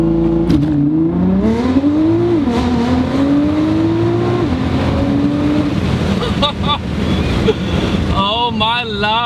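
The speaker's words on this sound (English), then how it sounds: "With this launch control system, with this tune and everything, what's great is it builds boost off the line" 600 HP Nissan R35 GTR launching hard on launch control with a tune, its engine note climbing steadily in pitch through the gears over heavy wind noise, loud and close, with a short shift break and rising revs at the end.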